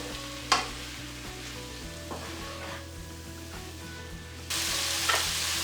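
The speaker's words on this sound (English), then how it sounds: "it's time to add in the mushrooms into this. Give them all a good mix." Mushrooms sizzling in a pan on a high flame while being stirred, a steady close frying hiss with scraping stir sounds, growing louder and brighter toward the end.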